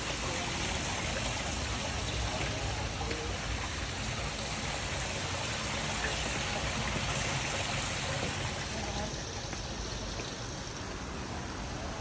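Water stream flowing through the Bahai Garden, a steady close broadband rush of running water with a faint trickling texture, continuous throughout with no voices.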